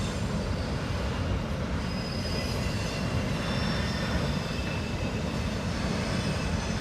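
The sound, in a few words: BNSF train crossing Salmon Bay Bridge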